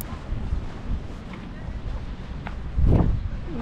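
Cold winter wind gusts buffet the microphone in low rumbling waves on a walk in Södermalm, Stockholm, with a stronger blast toward the end and faint talk underneath.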